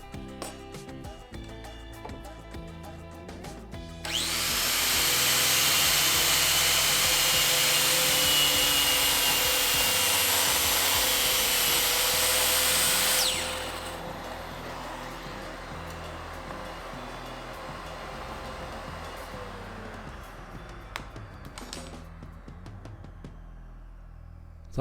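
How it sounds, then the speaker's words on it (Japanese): A circular saw makes an angled cut through wood, a loud, steady broadband whine lasting about nine seconds, then cutting off sharply to a quieter room hum. "さすが丸のこですね。"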